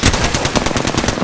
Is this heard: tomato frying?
no